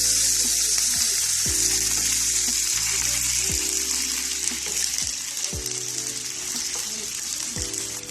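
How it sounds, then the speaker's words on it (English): Water is poured into meat frying in a pan for pinakbet, giving a loud, continuous sizzle with bubbling and a few clinks of stirring. "and just add water"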